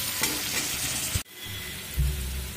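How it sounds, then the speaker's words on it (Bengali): Potatoes fry in oil with turmeric and salt on a low flame for potol kalia, with a close sizzle broken by stirring scrapes and a brief clatter partway through. "দিয়ে নরম করে ভেজে নেব।"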